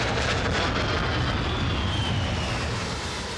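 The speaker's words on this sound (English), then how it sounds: "Oh, there they go. There they come." A jet aircraft roars in to land on the aircraft carrier HMS Illustrious, a loud, steady, broadband engine rush that eases slightly toward the end, with no voices.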